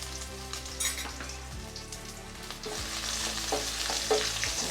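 Cumin, red chillies and ginger-garlic paste sizzle in hot oil in a pan while making Kathiyawadi rasiya dhokla, a steady crackling fry with occasional stirring scrapes, close and fairly quiet.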